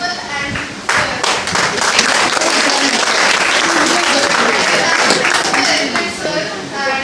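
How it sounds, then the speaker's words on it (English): A school audience of students and teachers claps for the principal, giving loud, sustained applause with individual hand claps standing out and a murmur of voices underneath. "I want you all to clap for principal"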